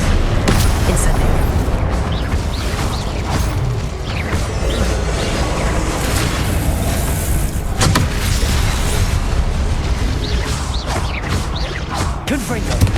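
Confringo, an explosive spell, bursts in Hogwarts Legacy amid continuous, dense game combat noise of booms, crashes and rumbling effects that stay loud throughout.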